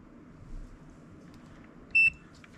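A multimeter on continuity check gives a single short, sharp electronic beep near the end, over a faint low hum.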